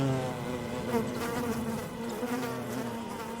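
Small flying insects buzzing on a mountain meadow where female Sympetrum dragonflies hunt, a continuous close, moderately loud whine with shifting tones.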